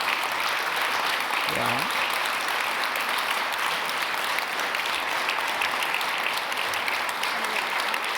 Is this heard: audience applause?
yes